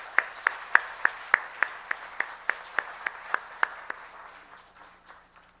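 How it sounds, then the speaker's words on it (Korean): A church congregation at a Korean afternoon service claps in unison. About fifteen evenly spaced, crisp claps fall in a steady rhythm, then die away into a quiet room. "지금 이 시간 수고해 주신 것에 대한 감사의 의미로 우리 박수로 맞이하겠습니다."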